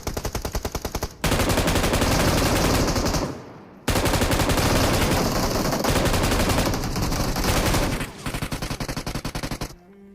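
In the video game BGMI, loud, dense automatic gunfire sounds in long sustained bursts with rapid rattling, broken by brief gaps, and runs almost continuously near and heavy.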